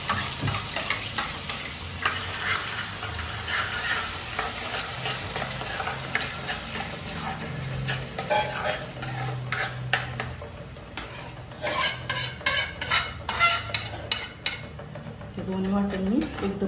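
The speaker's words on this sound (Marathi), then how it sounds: "दोन्ही वाटण मी एकदमच घालून परतून शिजवून घेणार आहे, चांगलं भाजून घेणार आहे." Coconut, coriander, ginger and garlic paste and onion-tomato masala paste being stir-fried together for a spicy chicken curry, a continuous sizzle with frequent close spatula scrapes and clinks against the pan, denser toward the end.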